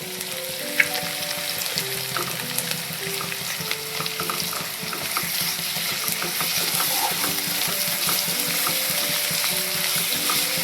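Ginger-garlic paste sizzles steadily in a nonstick kadhai, with a continuous bright frying hiss and occasional stirring scrapes, close up and without talk.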